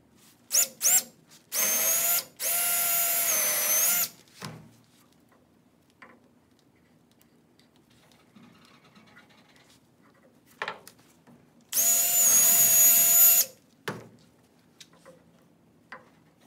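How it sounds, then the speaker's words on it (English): A power drill bores a hole into a wooden mallet in a woodturning shop, with two long, loud, high-pitched whining bursts separated by quiet gaps and a few brief clicks and taps between them. "I'm going to drill a hole so that I can thread this in"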